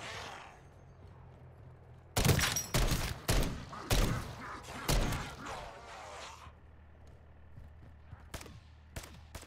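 Enemy gun turret in Call of Duty firing a rapid volley of loud, close shots, bursts clustered over a few seconds and then a couple of sharp isolated cracks near the end against a low rumbling background.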